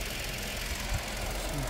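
A 2019 Kia K5 with a 2.0 gas engine idles under an open hood, a steady close rumble with a faint knocking pulse and no talking.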